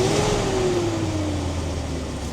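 A revived, formerly abandoned V8 BMW engine running close by, a rough mid-pitched drone whose tone sweeps down slightly as revs fall, loud and steady with no one talking.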